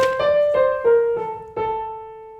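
Opening of the last movement of Beethoven's "Spring" Sonata for violin and piano, alone: five clear piano-led phrases with sustained tones, each starting with a fresh attack and fading slightly.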